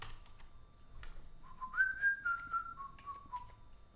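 A person whistles a short, clear descending melody of a few notes, faint and close, with light clicking in the background.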